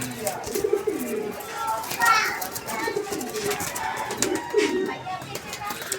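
Pigeons coo in low, repeated throaty calls, close by, while children's voices and chatter carry on in the background.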